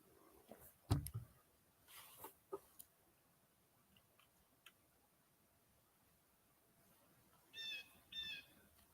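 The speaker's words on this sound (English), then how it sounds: "There's a bird." Faint wild birds call outdoors on a quiet day: a few scattered chirps early on, then two brighter clusters of high calls near the end, with no talk.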